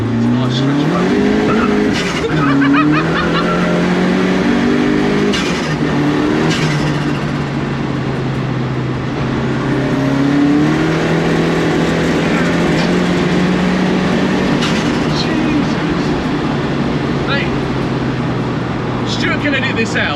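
A Renault 5 GT Turbo fitted with a swapped C20LET red top turbo engine, about 275 bhp, pulls hard, its engine note rising and falling through the gears. A passenger talks over the loud, close cabin drone.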